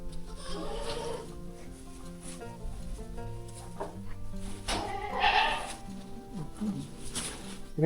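Goats at a village goat farm near Pune bleat several times at close to moderate distance, wavering calls rising above a steady rural background.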